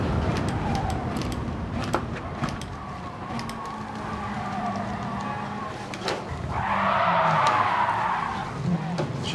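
Racing cars in GT Sport, a continuous engine drone with tire scrub and squeal, then a broader rushing scrape as cars make contact near the end.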